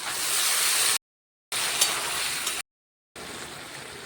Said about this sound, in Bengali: এবার পাস্তাটা সিদ্ধ করে রেখেছিলাম ঢেলে দিলাম